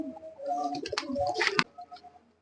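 Silver pigeons cooing in a loft, a close low throaty coo swelling and breaking off, with a few softer coos after, no talking.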